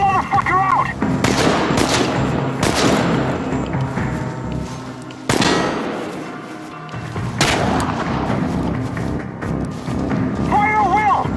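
Heavy gunfire in the video game Chernobylite: dense bursts of rifle shots and booming blasts crack close and loud over a continuous battle din, with a brief lull in the middle before the firing resumes.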